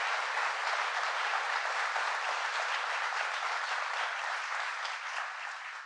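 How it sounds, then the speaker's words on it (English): Sustained applause from an audience welcoming Governor Hochul at an event on jobs and factories in Poughkeepsie, a dense steady clapping that holds at an even level throughout. "So please give her a round of applause."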